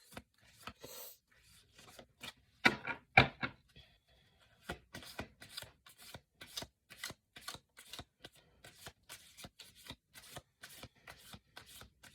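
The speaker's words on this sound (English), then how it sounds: "Do 2 more shuffles." Oracle cards being shuffled by hand, a run of crisp riffling and tapping bursts coming close and fairly quiet in an irregular rhythm, with short pauses between shuffles.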